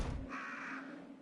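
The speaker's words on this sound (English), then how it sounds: "front door has a shit ton of crows" Crows cawing outside a front door in the Resident Evil 3 Nemesis video game, one drawn-out harsh caw standing above a steady background drone.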